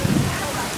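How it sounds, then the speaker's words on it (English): Heavy rain pouring during a severe June thunderstorm in Salisbury, Massachusetts, a dense steady roar of rainfall with a brief low rumble at the start, under a short stretch of talk. "It's raining the most."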